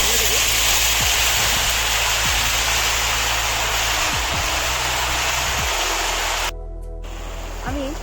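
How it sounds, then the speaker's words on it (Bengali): Jujubes fry in hot oil with five-spice seeds, two bay leaves and two dried chillies for a sweet pickle, a dense, loud, continuous sizzle that briefly drops near the end, with a voice speaking over it. "এই দিয়ে আমি এখন কুলটাকে ভেজে নেব।"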